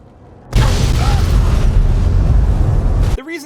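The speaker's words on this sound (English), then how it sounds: "those cars that are scattered everywhere in Fallout 3 that have an explosion way bigger than they have any business having" A nuclear-powered car blowing up in Fallout 3, one huge sudden boom that roars loudly for about two and a half seconds before cutting off abruptly.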